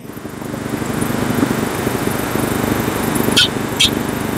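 A petrol-powered weeder engine runs steadily with a loud, continuous drone, close by, with a couple of brief higher clicks near the end.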